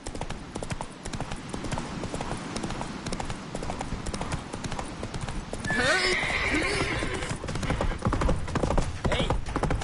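Roach, the horse in The Witcher III, gallops with rapid rhythmic hoofbeats and lets out a loud whinny midway, close and steady throughout, with faint voices in the background.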